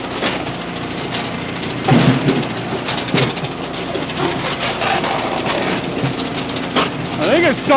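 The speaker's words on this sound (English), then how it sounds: "I think it's starting to rain" Rain beginning to patter down at a campsite during a firewood-splitting session, a soft broadband hiss with scattered drops and a few louder knocks, while people talk nearby.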